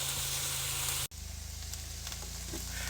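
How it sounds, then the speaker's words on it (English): Onions sizzle steadily in a hot skillet with salt and garlic, a dense, loud, continuous frying hiss heard close up, broken once by a brief sharp click or cut near the middle, no talking. "Caramelize them onions."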